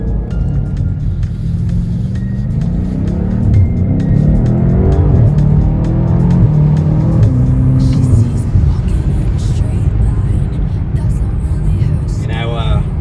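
A 2020 BMW M8 Competition, heard from inside the cabin, its engine droning loudly as it climbs and drops through gear shifts, with someone talking over the steady roar.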